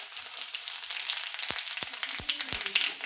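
Bay leaves and cumin seeds crackle and sizzle in hot oil, a close and steady frying hiss with a few sharp pops toward the end.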